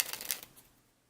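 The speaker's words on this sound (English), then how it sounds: "So shuffle the cards." A deck of playing cards is shuffled in a quick, close riffle lasting under half a second, then fades into quiet.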